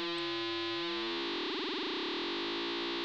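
A Kmath synthesizer tone swept by a fader from low frequency into audio frequency, starting as a buzzy, wobbling drone and smoothing into a rich, distorted, steady pitched tone that sustains alone.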